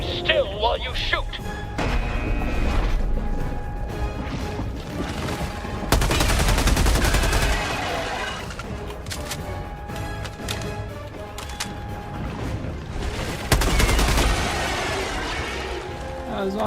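Gunfire in the co-op shooter Helldivers crackles in repeated bursts over a constant layer of game sound, with heavier volleys swelling loudly twice, and a voice briefly mixed in.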